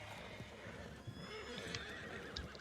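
A horse in the Red Dead video game whinnies and clops its hooves, with the neigh rising over steady hoofbeats and a busy background of game ambience.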